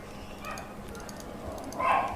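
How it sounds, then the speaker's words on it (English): A dog barks twice, short sharp barks at moderate distance with the second louder, over a low steady background hum. "The dog barking just scares the crap out of me every time."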